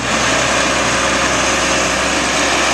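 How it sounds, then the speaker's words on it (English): A 2006 New Holland CR960 combine's engine runs steadily at an equipment auction in Saskatchewan, a loud, even rumble with broadband hiss and no variation or talk. "Here is the New Holland CR960 combine, 2006 model."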